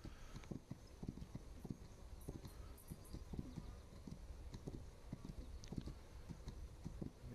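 A horse in the game This Land Is My Land clip-clops along at a steady trotting rhythm, hoof beats sounding clearly in the foreground against faint ambient outdoor background.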